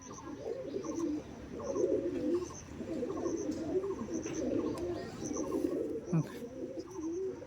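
Madras pigeons, a long-flying breed kept at a home loft, coo repeatedly in soft, low throaty rolls, several birds overlapping close by, with faint chirps above.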